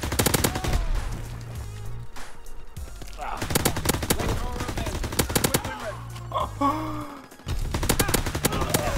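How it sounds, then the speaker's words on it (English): MP40 submachine gun bursts in Call of Duty WW2, loud rapid automatic fire in repeated close volleys with short pauses and game effects between them. "Why is the MP40 so freaking good, dude?"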